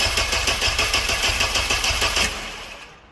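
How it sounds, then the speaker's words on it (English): A car engine cranks repeatedly without catching, a steady rhythmic starter churn with regular compression pulses, loud and close, running for a few seconds before it stops during a relative compression test with a current clamp. "So I'm going to crank, but it should not start."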